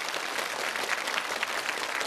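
A studio audience at a Chinese TV challenge show applauds contestant Wang Yibao: dense, steady clapping that fills the whole stretch at an even, sustained level with no voices standing out.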